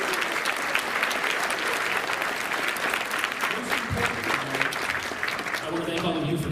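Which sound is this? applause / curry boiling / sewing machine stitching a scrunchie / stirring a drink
applause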